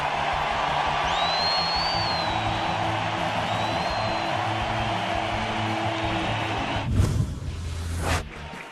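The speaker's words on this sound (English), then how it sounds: "You are going to hear a thunderous ovation when Kyle Hendricks leaves this ball game." A large stadium crowd at a Cubs playoff baseball game roars in a sustained, dense ovation as a pitcher leaves, with a louder surge near the end.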